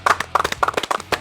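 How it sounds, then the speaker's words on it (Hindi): Clapping from a small group cheering the three finalists of a dating show season finale, a short burst of quick, uneven claps up close. "तो आज के लिए ताली हो जाए तुम लोगों के जोर से"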